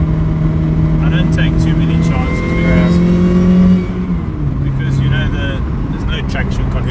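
A supercharged 1.6-liter Mazda MX5 NA engine revs loudly from inside the car, with a sustained climbing pitch that drops off after a few seconds; occupants talk over the engine.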